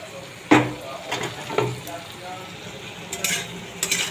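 Potatoes dropped into a pan of frying spice masala for a fish curry, with a loud splash and sizzle at the start and sharp utensil clanks and stirring scrapes over a steady low frying hiss.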